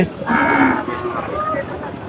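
A single drawn-out moo from a bull or calf at a busy cattle market selling Sahiwal bulls, loud and close, lasting about a second over a low crowd murmur.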